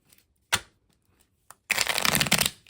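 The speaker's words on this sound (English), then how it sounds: "So let's give them a shuffle." A deck of small puppy-themed playing cards gets shuffled: two short snaps of cards, then a dense, close riffle of flicking cards lasting about a second, with no talking.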